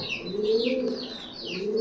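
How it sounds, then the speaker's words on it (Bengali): Pigeons cooing at a busy bird market in Mirpur 1, a steady low coo layered with high chirps and tweets from other birds, continuous and close. "আমরা এখন আছি মিরপুর 1 পাখির হাটে।"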